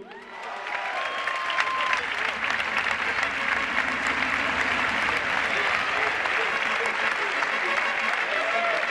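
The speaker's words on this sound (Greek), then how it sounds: "Ας δώσουμε το πιο ζεστό μας χειροκρότημα" A crowd at a championship award ceremony for Omonoia's 2015 title applauds warmly in a dense, sustained clatter of clapping lasting several seconds, with a voice speaking faintly over it.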